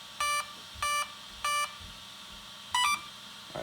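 The ESC of an Arrma Vorteks 3s 4x4 RC car beeps at power-on: three evenly spaced electronic tones, then a fourth, two-pitched tone after a short pause, clear over a quiet background.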